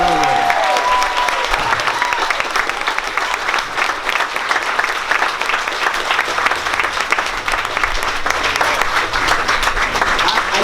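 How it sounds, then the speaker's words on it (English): Dense, loud audience applause for the cast, sustained clapping from a large crowd throughout with a faint voice at the very start. "a round of applause for the cast"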